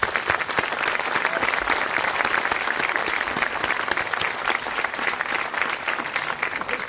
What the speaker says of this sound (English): Can we give Jasmine and Claire both a big round of applause?